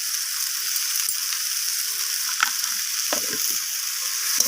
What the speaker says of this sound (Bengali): তো আদা রসুনটাকে দিয়ে সব কিছুর সাথে আবারও কষিয়ে নিচ্ছি।